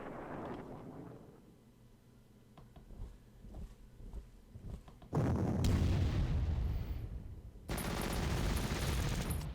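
Artillery fire in the Panzer Corps strategy game: loud rumbling blasts and a dense crackling barrage in two bursts, the second starting abruptly, with quieter thuds before them and no talk.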